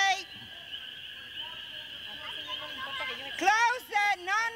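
A horse whinnies in a loud, drawn-out, wavering neigh close by, followed by shorter, choppier whinny bursts, with people's voices in the background.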